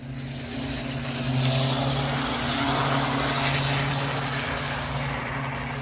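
An Athearn SD45 model locomotive with a gold motor runs around a layout track at steady throttle, giving a continuous motor whine and hum with a rumbling buzz, steady and fairly loud throughout with no talking.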